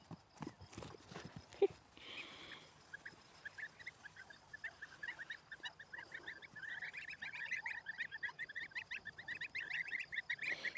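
A flock of goslings peeping in quick, high chirps that grow busier and denser, preceded by a few thumps and brief noises near the start.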